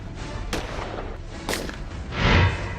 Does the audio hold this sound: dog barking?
no